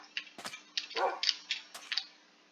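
Several short, sharp dog barks and yips from a dog in a video game, in quick succession, clear and fairly close, with a faint steady hum underneath.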